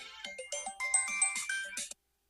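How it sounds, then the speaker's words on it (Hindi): A mobile phone ringtone plays a bright, rapid electronic melody of short chirping notes for about two seconds, then stops abruptly into silence. "हमार फोन आवता"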